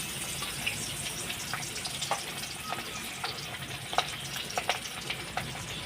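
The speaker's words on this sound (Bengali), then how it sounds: "এখন নুন হলুদ মাখা হয়ে গেছে এখন আমি ভেজে নেব সুন্দর করে" Salt-and-turmeric-coated fish pieces fry in hot oil, a soft continuous sizzle with scattered small pops and crackles, close but fairly quiet, no talking.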